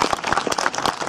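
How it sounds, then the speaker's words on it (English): A small outdoor crowd at Arundel Castle claps for Sir William Marshall at a reenactment display, producing a short burst of brisk, irregular applause that sounds fairly close. "I think it's a round of applause there for Sir William Marshall."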